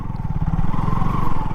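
A KTM Duke 200 motorcycle engine idles close by with a steady low throbbing pulse and light mechanical clatter, holding roughly even throughout with no voices over it.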